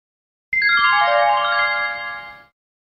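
A telephone rings with a bright, electronic multi-tone trill lasting about two seconds, clear and close, then cuts off into silence.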